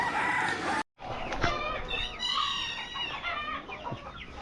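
Chickens, including a blue-coloured hen, clucking and a rooster crowing on a farm with goats nearby, a lively flock sounding close with overlapping calls and a brief dropout near the start.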